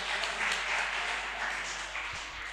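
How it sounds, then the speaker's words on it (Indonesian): Audience applause at a book discussion event at an Islamic boarding school, a steady dense wash of clapping throughout at moderate level with no talk over it. "Tepuk tangan dong buat kalian semua."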